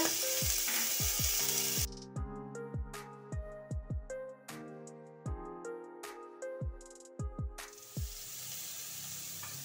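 Garlic and onion paste sizzles in a frying pan, the hiss strong at the start and returning at the end. Between the two bursts of frying, a run of plucked musical notes plays.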